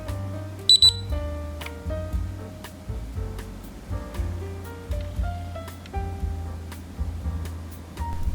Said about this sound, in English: I put the disc in, it beeped and turned on